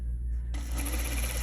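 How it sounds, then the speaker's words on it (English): A sewing machine stitches through a T-shirt seam and elastic, its needle whirring in a fast steady rhythm that starts after a brief quiet moment and continues close and clear. "I am sewing through the seam and the elastic at the same time"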